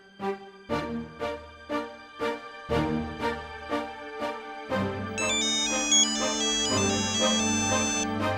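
A phone ringtone plays alone, a melodic electronic tune repeating in regular pulses, then thickening into a fuller, louder chiming pattern.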